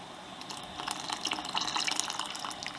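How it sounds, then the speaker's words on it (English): Water poured from a kettle trickles and splashes steadily into a container nearby, a soft continuous pouring sound with light dripping. "I'll just pour some out of the kettle."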